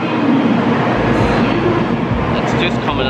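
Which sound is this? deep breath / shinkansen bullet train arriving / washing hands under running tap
shinkansen bullet train arriving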